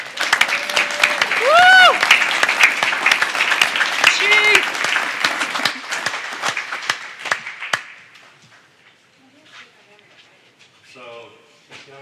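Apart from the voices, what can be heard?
slow clap applause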